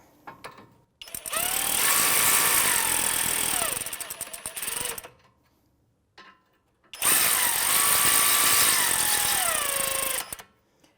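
A powered ratchet whirs in two loud bursts of about four seconds each, separated by a quiet pause, as it snugs a 19 mm brake caliper bracket bolt on a 2017-2022 Honda CR-V.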